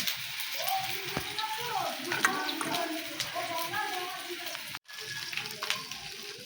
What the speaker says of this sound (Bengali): এখন মশলাটাকে কষাচ্ছি